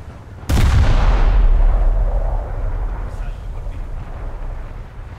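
A sudden deep boom from Italian premium battleship guns in War Thunder, firing on an enemy ship, followed by a long rumbling decay of low-frequency gunfire under faint background noise.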